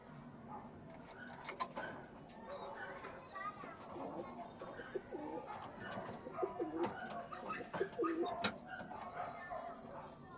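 Pigeons coo softly in a loft, low throaty calls repeating among rustling and scattered clicks, with someone talking over much of the stretch.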